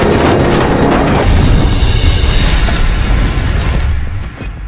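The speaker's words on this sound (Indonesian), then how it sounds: "sekelompok berandalan tiba-tiba datang menyalip dan menghujani mobilnya dengan tembakan" Gunfire from a gang of thugs overtaking a car in an action film, heard as a dense, loud roar of blasts and bursts mixed with engine and impact noise, sustained throughout before tapering at the end.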